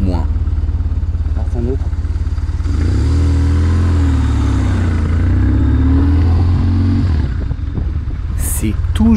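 Motorcycle engine idling and revving steadily throughout, loud and close, with a low continuous drone that swells in the middle and some clatter near the end, on a trail ride through Auvergne.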